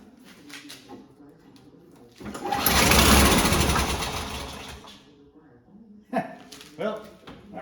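An old 1990s Toro GTS 3-speed rear-wheel-drive lawnmower engine sputters, surges into a loud roar for a few seconds and dies back down, followed by clunks and handling noises.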